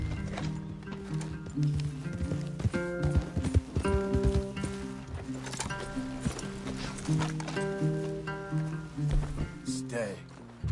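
Horse hooves clip-clop irregularly in Red Dead Redemption 2, several horses moving, with music playing underneath.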